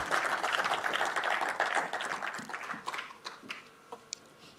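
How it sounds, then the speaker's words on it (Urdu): An audience at a Sahitya Aaj Tak poetry recital claps in a full burst of applause that thins out into a few scattered, isolated claps. "یہاں تک آتے آتے تالیاں بجنی چاہیے"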